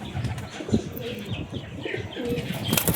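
Soft, repeated cooing from domestic loft pigeons, near and steady, with a few chirps and wing flaps mixed in.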